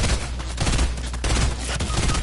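Video game gunfire crackles in a dense, loud fusillade of rapid shots, continuous and close throughout the short moment.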